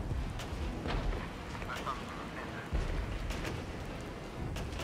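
Artillery smoke barrage in a video game battle with BTR-70 and BMP-1 armored vehicles: a constant low, rumbling roar of distant fire with occasional heavier thumps, one standing out near the middle.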